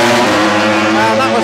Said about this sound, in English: And that was Michael Ruben Rinaldi on the Go 11 Ducati